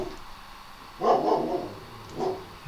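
A dog barking indoors, a few close, fairly loud barks run together, then one more short bark after a brief pause.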